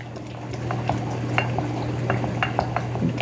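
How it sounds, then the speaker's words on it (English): A spoon scrapes and clinks steadily around a pot as milk is stirred into a warm melted mixture, a continuous close-up stirring with soft liquid sloshing over a low steady hum. "Get this stirred in real good."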